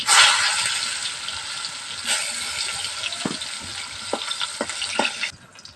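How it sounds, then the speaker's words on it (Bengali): Pointed gourd pieces, coated in salt and turmeric, frying in hot mustard oil over a clay stove: a steady close sizzle with a few sharp stirring clicks, no voices. "পটলগুলো এবার তেলে ছাড়া দেবো এইভাবে এইভাবে পটলগুলো আমি ভেজে নেবো"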